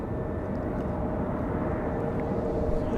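An airplane at Raleigh Durham International Airport produces a steady, broad, loud roar that holds constant throughout.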